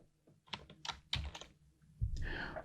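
Computer keyboard keys pressed in a quick shortcut combination, soft clustered clicks and taps at close range in a quiet room, a few separate keystroke groups.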